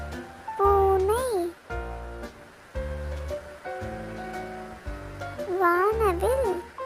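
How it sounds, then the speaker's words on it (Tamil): A cat meows twice, with rising and falling cries separated by several seconds, over steady background music. "பூனை"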